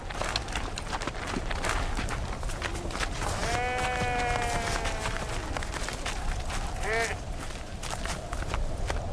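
Sheep bleat in a pastoral scene, one long wavering bleat followed a few seconds later by a shorter one, set against a busy, noisy background of movement and rustle.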